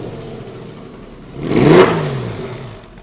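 A Porsche 911 GT3 engine revs once, surging sharply to a loud peak and then falling back toward idle, close by with no talking.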